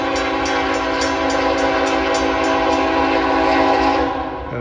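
A train horn blares in a long sustained chord as the train rumbles past nearby at Marion Union Station, with rhythmic clicking from the wheels before the sound fades.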